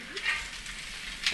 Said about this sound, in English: We're waiting for the bacon to get crispy